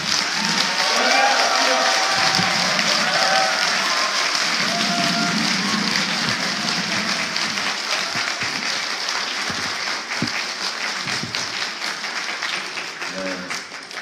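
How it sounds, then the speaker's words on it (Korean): A large audience at a political party academy lecture in Seoul claps loudly to welcome a speaker, the dense applause holding strong for about fourteen seconds before easing slightly, with some murmuring in the crowd. "정청래 위원님을 큰 박수로"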